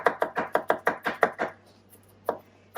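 A knife chopping cucumber on a board, eight quick evenly spaced cuts in a brisk rhythm, then a pause and one more single chop, close and crisp.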